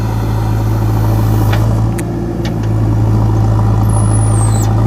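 A JCB 3DX Xtra backhoe loader in reverse gear pushing with its bucket, a loud steady diesel drone with a deep hum and occasional clanks, briefly dipping before returning to full power.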